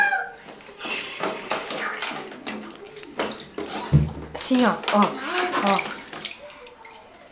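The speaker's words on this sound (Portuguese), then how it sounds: "Joga água na cabeça e faz." Water poured from a small bucket over a child's head during a bath, splashing in bursts under lively talk from an adult and child.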